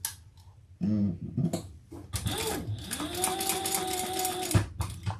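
A sewing machine runs a short burst of stitches through handbag fabric, the steady motor whir with a whining tone lasting a couple of seconds, preceded by brief handling noises.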